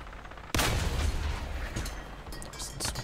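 Tank cannon fire in War Thunder from a British army vehicle: a single heavy blast strikes sharply after a brief lull and rolls into a long, loud rumbling decay, with smaller crackling reports trailing near the end.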